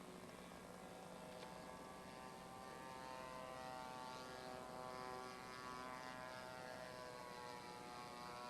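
An Inya 240 V-twin engine powers a scratch-built Gloster Gladiator model airplane, giving a steady, continuous droning buzz at a distance that holds even in level throughout, with no voices.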